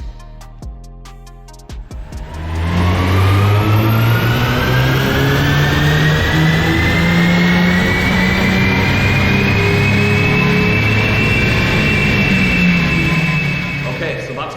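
A Mercedes A200 1.3 AMG Line (160 bhp) engine is run up on a dyno, starting with a short low idle and then holding a loud, steady rising drone that climbs gradually in pitch for over ten seconds before easing off at the end.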